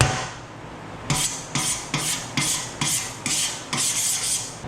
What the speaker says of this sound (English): Big screwdriver.